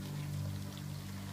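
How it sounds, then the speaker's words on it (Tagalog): Water is poured into a pan of meat cooking with sugar and tomato sauce, giving a short, soft, steady stream. "Lagyan po natin ito ng tubig."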